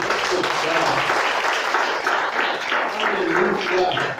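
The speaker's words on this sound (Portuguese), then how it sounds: "Quem crê, pode aplaudir." A church congregation applauds loudly and continuously, a dense wash of many hands close by, with voices calling out over the clapping.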